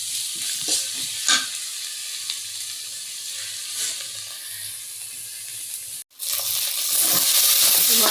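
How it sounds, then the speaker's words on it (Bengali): Spice paste stir-fried in a pan gives a close, bright sizzle with intermittent scraping stirs; a brief cut near the middle is followed by a louder, more intense frying hiss. "কষাবো মশলা।"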